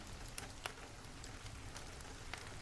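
Soft, steady rain hisses quietly and evenly, with a few brief louder drops or patters on a surface, heard alone with no voices.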